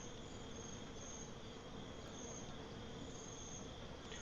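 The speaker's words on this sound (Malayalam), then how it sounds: "ഇവിടെയും മൊത്തം ഈച്ചയുടെ ശല്യമാണ്." Steady, continuous buzzing of flies in the mountaintop area of the video game GTA V, a faint, even insect drone with no breaks and no talking.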